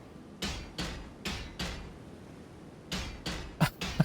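Blacksmith hammering in Elden Ring, heard as sharp metallic strikes in two bursts of four or five blows each. The hits are crisp and evenly spaced, with quiet pauses in between and a few brighter clinks at the end.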